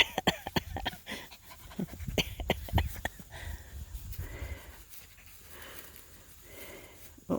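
Australian Goldendoodle puppies pant and scramble about outdoors, with quick breathy panting and scattered footfalls and rustling at moderate distance, fading toward the end.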